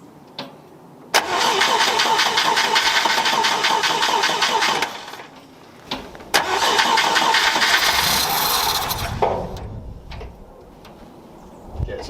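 A Scout 80 engine cranks and catches in two bursts with a brief pause between, loud and close, with some talk around it.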